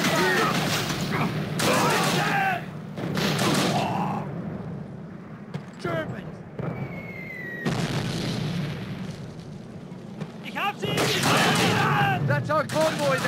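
Gunfire and heavy booms from Call of Duty Roads to Victory on the Reichswald level, loud bursts and volleys with gaps between them, mixed with shouted voices and battle noise.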